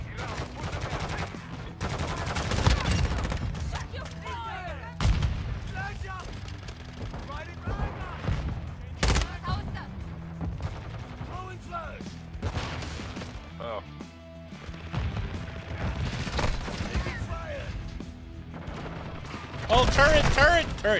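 Sentry turret gunfire in the Call of Duty map Shipment, rapid bursts of shots mixed with other gunfire and impacts, heard close under excited talking.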